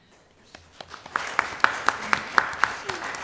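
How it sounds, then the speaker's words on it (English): A few people at a city council meeting clap in a sparse, uneven rhythm, sharp individual claps building briefly over a quiet room before fading. "You don't have to clap after each one."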